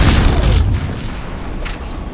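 A gunshot in the Mass Effect 3 video game, one loud booming blast with a heavy low rumble that fades, then a second fainter crack a moment later.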